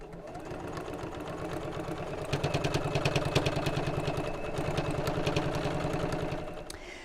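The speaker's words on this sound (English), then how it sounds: "Fold the fabric up and we're just going to top stitch across the seam." A sewing machine top stitches across a fabric seam on a box pleat cosmetic pouch, with a steady rapid mechanical clatter close by that grows louder midway, and no talking.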